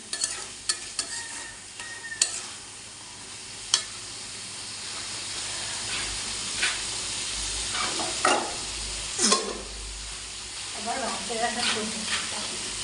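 Taro stalks with spices, tomato and cumin sautéing in a pan, a steady sizzle broken by repeated scraping stirs and clinks of a spatula, close and alone without talk.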